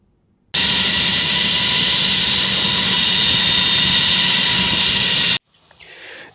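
An arriving airplane's engines roar loud and steady for nearly five seconds, then cut off abruptly, leaving a faint quieter hiss.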